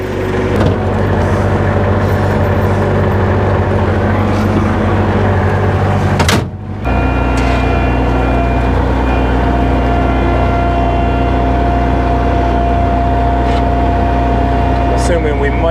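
A skid loader engine runs loud and close with a steady low drone and hum, briefly interrupted by a knock or clunk and then resuming, with people talking over it.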